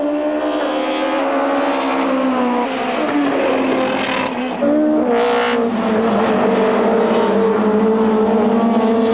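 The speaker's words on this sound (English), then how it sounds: "blue BMW in second place. Laurent Aiello in the Peugeot 405. Followed by the 2 Opel Vectras of Eric Ellery and Alain Coudini." Loud, continuous engine roar from 1995 French Supertouring cars, including a BMW, a Peugeot 405 and Opel Vectras, racing closely at Paul Ricard, with layered revving tones that rise and shift as the pack passes.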